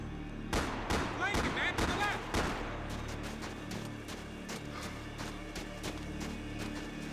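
Gunfire in the third-person shooter Max Payne 3: a burst of several sharp shots and booms in the opening two seconds, then scattered quieter pops over a steady game background rumble.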